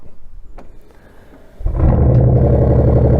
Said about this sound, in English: Anyway, it sounds good when the car is running, so start it up.